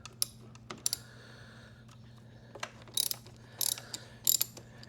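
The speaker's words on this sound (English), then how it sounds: "I do own a socket set metric, so we'll go ahead and get these battery cables off, or at least loosened" A metric socket ratchet loosens the battery cable nuts on a Subaru, giving quiet close clicking bursts in short irregular runs with pauses between them.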